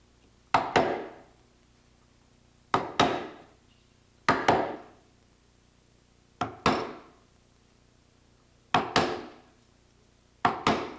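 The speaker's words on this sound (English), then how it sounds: "Put the chisel just before the marking gauge line and tap it" Six sharp chisel taps ring out at the marking gauge line on a clamped wooden workpiece, each strike quickly followed by a second lighter hit, spaced about two seconds apart and heard up close with no talk.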